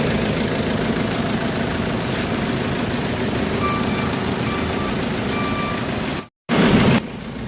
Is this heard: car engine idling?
yes